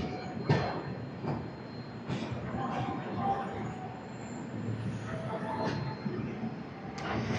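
A train rolls on rails after leaving Vijayawada junction, a low continuous rumble with periodic clacking jolts and faint wheel squeal, heard from on board at moderate volume.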